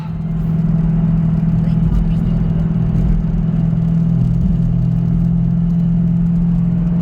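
A 2005 Ford Mustang GT with a Ford 8.8 rear axle, 4.10 gears and an Eaton Truetrac differential cruises at highway speed, giving a loud, steady low drone of engine and road noise that holds throughout without a break.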